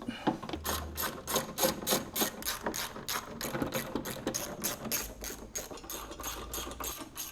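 A hand ratchet screws a body kit bracket onto a Mercedes GLS, giving a fast, steady run of close, sharp clicks that carries on throughout at a moderate level.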